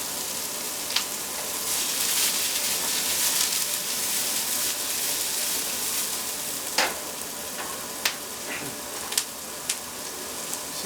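Mushrooms sizzle and fry steadily in a hot pan, a continuous close crackle broken near the end by a few sharp stirring clinks and taps.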